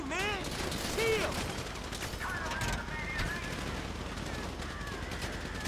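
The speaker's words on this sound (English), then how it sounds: "So I guess we're shooting our way out of here." Gunfire from the video game GTA V: repeated shots and bursts cracking through a busy mix of game effects and music, with voices shouting over the action.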